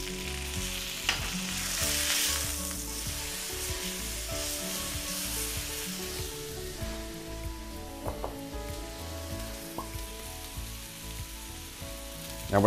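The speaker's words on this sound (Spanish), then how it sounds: "Así que es bien importante sellarlo por todas sus caras." Beef tenderloin for roast beef searing in hot oil in a pan, a steady close sizzle and crackle running throughout, with occasional stirring clatter and a louder burst at the very end.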